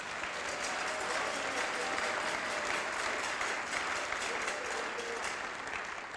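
A church congregation applauds during a French-language sermon, a steady, dense wash of clapping that holds at even loudness all the way through, with no voice heard above it.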